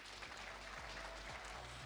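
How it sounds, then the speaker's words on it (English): Faint applause rises briefly from the audience at a national ICT summit as a panel is introduced, a soft, distant patter under a low hum. "Can we give them a round of applause?"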